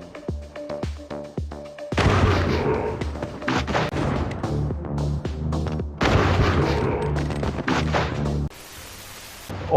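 Video game gunfire for headshots: loud, dense bursts of shots and impacts, continuous through most of the stretch, with a brief quieter lull near the start.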